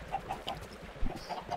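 A Minecraft chicken gives a run of soft, quick clucks at moderate distance, repeating in small bursts over quiet game background noise.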